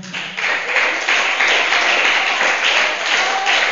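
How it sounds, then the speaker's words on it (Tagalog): A church congregation claps loudly and steadily for several seconds, a dense wash of applause filling the space. "Palakpak sa Panginoon."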